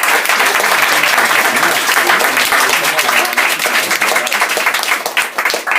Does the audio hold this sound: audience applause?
yes